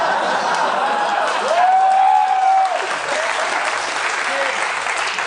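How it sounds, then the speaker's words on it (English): A live comedy podcast audience breaks into a few seconds of steady, fairly close clapping, with scattered voices and chuckles mixed in. "I don't know why that got an applause"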